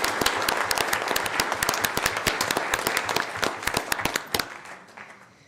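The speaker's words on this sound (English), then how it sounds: "Can we give them a round of applause?" Audience applause at a city council regular meeting, a burst of dense clapping from a room full of people that thins out and fades near the end.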